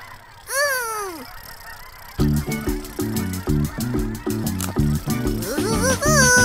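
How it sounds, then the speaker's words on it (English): Cartoon geese in a children's counting app honk in quick, loud, repeated bursts, one drawn-out call first and then a rapid rhythmic chorus, close and clear without talk. "Sam joined the 37 geese that were heading south for the winter."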